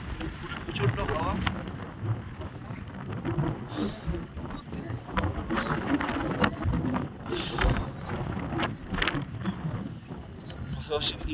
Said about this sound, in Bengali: প্রচন্ড হাওয়া